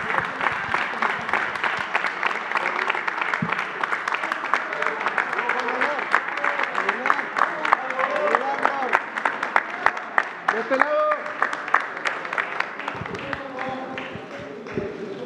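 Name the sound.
applause at the end of the press conference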